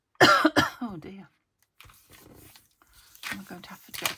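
A woman coughs several times in quick rough bursts near the start, then clears her throat and coughs again more softly, all close by and quiet.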